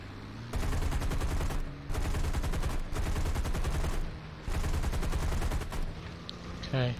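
Anti-aircraft artillery guns open up in the War Thunder flight combat game: three long, loud bursts of rapid automatic fire, separated by short pauses, with a quieter tail at the end.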